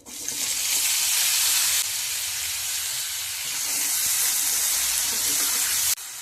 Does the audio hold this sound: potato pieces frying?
yes